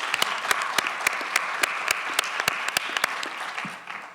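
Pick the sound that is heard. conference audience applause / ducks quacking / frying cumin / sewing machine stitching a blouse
conference audience applause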